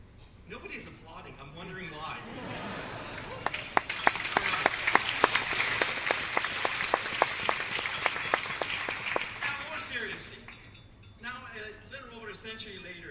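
Convocation audience applause swells in the middle of the clip: a broad wash of many hands clapping at moderate distance, rising and fading over several seconds, with someone speaking before and after.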